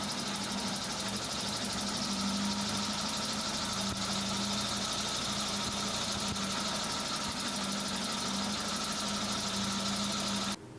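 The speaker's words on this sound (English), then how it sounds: "Does your Samurai have a really bad idle?" A Suzuki Samurai engine with a failing fuel pressure regulator idles roughly, a steady close rumble with uneven knocking pulses throughout, no speech, cutting off abruptly at the end.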